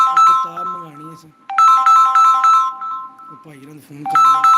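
A melodic phone ringtone for an incoming call plays in repeated bursts during a live stream, mixed with a man's speech.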